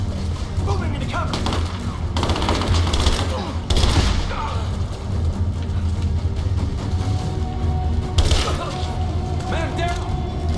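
Enemy gunfire in Rise of the Tomb Raider: steady sharp cracks and rattling bursts over a loud game soundscape, with shouted voices in the mix.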